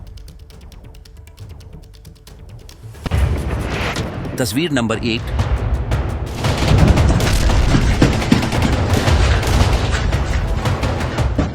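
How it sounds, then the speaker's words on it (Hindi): Gunfire and heavy booms ring out in the West Bank during fighting between the Israeli army and Palestinian militants, starting abruptly and continuing as dense, loud bursts beneath a narrating voice. "जहां इजरायल की फौज और फिलिस्तीन के आतंकियों के बीच गोलीबारी हो रही है।"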